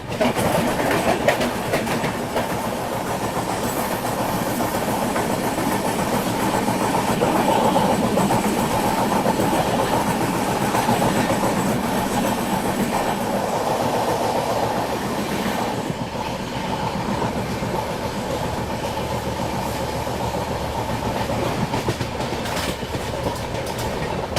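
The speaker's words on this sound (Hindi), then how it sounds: "वो टेकिंग ग्रैंड ट्रंक एक्सप्रेस।" Grand Trunk Express train running on rails near Raja ki Mandi station toward Agra Cantt, a steady loud rumble of wheels and carriages with rhythmic clickety-clack and faint squeal, continuous throughout with no talking.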